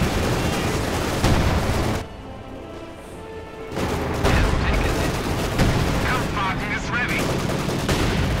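H-85 gunfire in Company of Heroes 2 rattles in loud bursts amid other battle noise, with booming impacts and a commentator's voice over the action.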